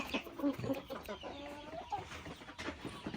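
Five-month-old young Saigon chickens cluck in short, uneven bursts at close range, with a steady barnyard bustle underneath.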